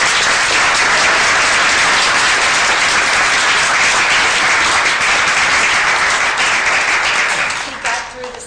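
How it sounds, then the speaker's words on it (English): An audience at an eChicago 2012 event claps and applauds loudly and steadily for several seconds. The applause thins out near the end. "So let's have a round of applause."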